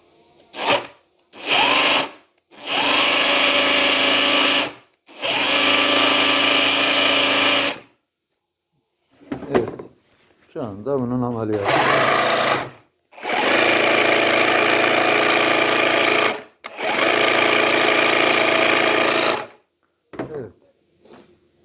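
Hazal electric green tea cutting machine motor switched on and off in repeated bursts, a loud steady whirring hum lasting a few seconds each time, separated by short silences and faint handling noises.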